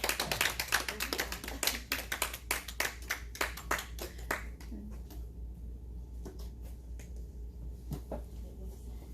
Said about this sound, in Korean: 우리 사모님 나오실 때 우리 크게 한번 박수 부탁드립니다